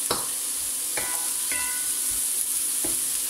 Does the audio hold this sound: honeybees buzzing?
no